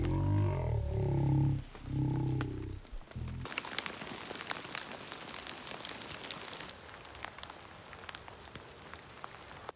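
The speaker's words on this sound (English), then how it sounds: "And now it is hailing." Hail patters and clicks steadily on a surface in Yellowstone after a burst of loud, rumbling noise at the start, continuing as a dense, crackling shower.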